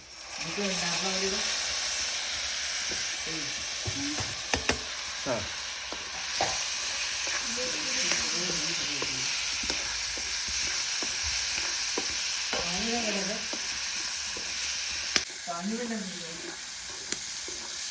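Freshly caught monsoon fish frying in a pan in a Konkan home kitchen, a steady loud sizzle and hiss running throughout with repeated scraping stirs, while someone talks over it.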